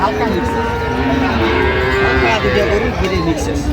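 A Sahiwal bull moos in a long, drawn-out low call that rises and falls, close by at a cattle market, with faint voices in the background.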